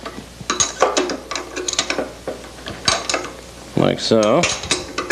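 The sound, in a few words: tightening nuts on a Weber grill base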